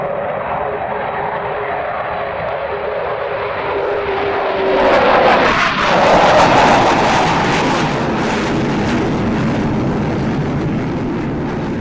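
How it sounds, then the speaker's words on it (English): Avro Vulcan B2 bomber engines at about 90% power, heard from the cockpit: a loud, continuous jet roar that swells into a rising howl partway through, then holds steady. "The air vibrates through the engines and intakes and creates a wonderful howl."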